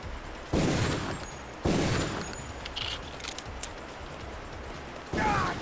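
Bursts of pistol gunfire from a video game shooter: a few sharp shots near the start, more around two seconds in and again near the end, with quieter ambient game noise between them.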